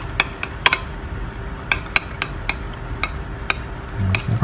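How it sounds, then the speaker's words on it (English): A utensil clinks repeatedly against a container while a hot soap mixture of lye and fat is stirred, producing sharp, irregular taps roughly every half second over a soft background hum, close and without talk. "And we just keep stirring."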